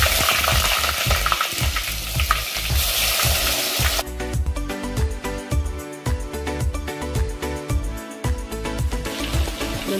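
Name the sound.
stuffed brinjals and potatoes frying in hot oil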